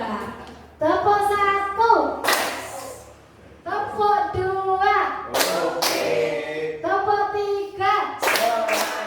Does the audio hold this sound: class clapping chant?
yes